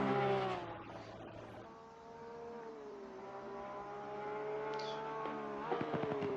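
Porsche 991 GT3 race car engine in Assetto Corsa Competizione at Spa-Francorchamps, a steady harmonic engine drone rising and falling in pitch as it revs and shifts, loud and continuous with no talk.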